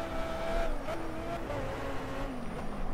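Racing car engine from the Project Cars video game during a solo race, a steady, continuous engine drone with shifting pitch and faint hints of tyre noise, heard alone throughout.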